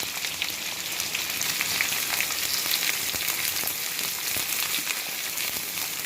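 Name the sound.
onions frying in oil with mustard seeds and urad dal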